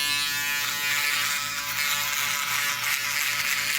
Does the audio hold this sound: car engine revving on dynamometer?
no